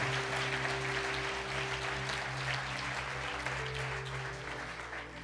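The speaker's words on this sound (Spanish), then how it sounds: "Dale un fuerte aplauso a Dios." A church congregation applauds during a Spanish-language service, filling the room with sustained, even clapping over a low, steady instrumental drone.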